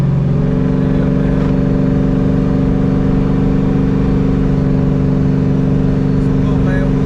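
An LS-swapped Chevy S10 idles with a loud, steady, deep engine rumble that holds throughout, close by and constant.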